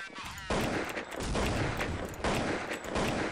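Rapid automatic gunfire in the Counter-Strike Condition Zero shooter game, dense bursts of loud shots overlapping almost continuously, with brief breaks between volleys.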